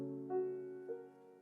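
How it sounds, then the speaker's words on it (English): A minor chord rings out on a keyboard-like instrument, sustained and steady with a soft second attack partway through, played alone with no talking. "a minor chord would sound like this"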